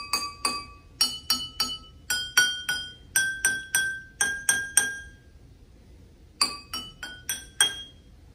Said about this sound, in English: Using a spoon, gently tap each glass and listen to this for the sound it makes.